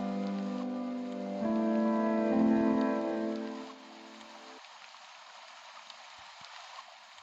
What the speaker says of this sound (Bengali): একটু পরেই শুরু হলো মুষলধারায় বৃষ্টি